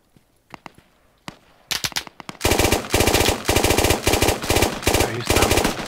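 Automatic gunfire in the military shooter game Squad: a few scattered single shots at first, then sustained loud bursts of rapid machine-gun fire with dense, rhythmic cracks continuing to the end.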